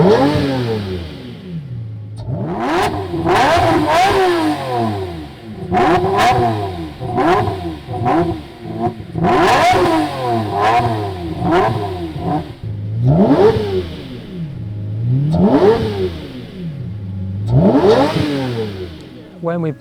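Lamborghini Murcielago LP640 V12 engine barking loudly through repeated downshifts, each blip rising and falling in sharp revving sweeps with crackling pops between, close and dominant over about twenty seconds.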